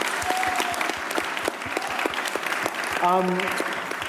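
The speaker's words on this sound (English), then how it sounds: "I reckon one more round of applause" A crowd at a youth climate strike rally claps steadily and continuously, dense and fairly close, with a brief whistle-like tone rising over the applause near the end.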